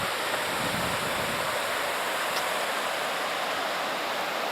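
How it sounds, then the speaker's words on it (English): Floodwater rushes at Mays Point lock on the Seneca River during the April 2017 flooding, a loud, steady broadband roar that stays constant throughout, with no voices. "So that's Mays Point and the flooding of April 2017."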